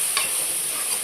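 Ginger garlic paste frying in a pan for Sunday chicken curry, a dense continuous sizzle with a quick stir scrape, close and loud, no voices.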